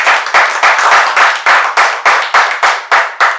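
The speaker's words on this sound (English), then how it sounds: "let's give a round of applause for one of the co-founders" A crowd applauds for a co-founder of the Long Beach Polar Bears, a steady burst of many hands clapping in quick repeated surges, close and loud, with no talking over it.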